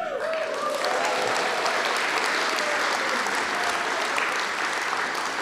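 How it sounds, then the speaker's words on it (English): Dense applause with some cheering from a large audience at the keynote of the 35th CSUN Assistive Technology Conference, a loud, continuous roar of clapping sustained throughout with no speech. "How about a cheer for Sandy?"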